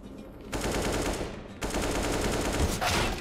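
Rapid automatic gunfire from Counter-Strike: Global Offensive, a dense continuous burst of shots with a brief break partway through, loud and close.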